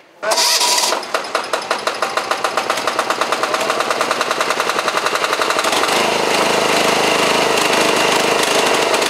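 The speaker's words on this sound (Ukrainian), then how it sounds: "Один із дизельних генераторів вирішили перевірити ще до завантаження." A diesel generator, part of a relief shipment to a conflict zone, is test-run: it cranks and catches with a loud burst, then settles into a fast, steady run of sharp mechanical pulses, close and without talk.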